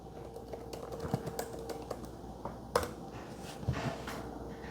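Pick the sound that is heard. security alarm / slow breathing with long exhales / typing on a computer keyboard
typing on a computer keyboard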